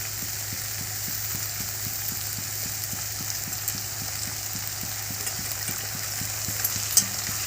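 Green chilies sizzle steadily in a pan while a khichdi for a fasting day is being cooked, with a close, continuous frying hiss and a faint regular ticking underneath, no voices.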